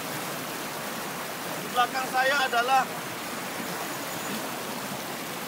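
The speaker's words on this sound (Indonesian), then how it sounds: "Tentunya masih di aliran sungai tempat air terjun ini, ya." A waterfall and river in a Sumatran forest give off a steady, even rush of flowing water throughout. Someone speaks briefly over it partway through.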